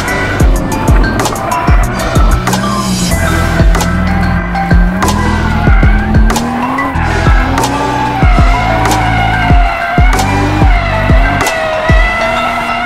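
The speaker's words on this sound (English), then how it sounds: "power skidding when exiting a corner is easy" A BMW 2 Series Coupe power-sliding out of corners, its tires squealing in repeated long screeches over a loud, rising and falling engine roar, with sharp knocks from the car throughout.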